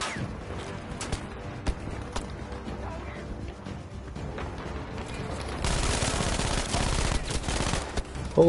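Machine gun fire in the Battlefield V campaign: a dense, continuous rattle of automatic shots growing louder and heavier toward the end, layered over busy battlefield noise.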